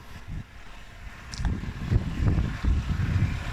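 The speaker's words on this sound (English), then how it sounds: "And there it is, the 1 litre twin cam 16 valve Nissan engine" A 1-litre twin-cam 16-valve engine in a Nissan Micra K11 S turns over and catches, then settles into a low, steady idle rumble close by with no talking.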